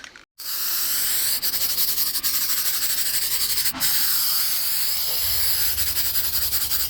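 Flat black spray paint hisses continuously from an aerosol can onto a Halloween decoration, a steady close hiss lasting several seconds after a brief pause at the start.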